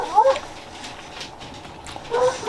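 Dogs playing in a backyard give brief whimpering yelps near the start and again near the end, fairly faint and somewhat distant, with a quiet indoor background between them.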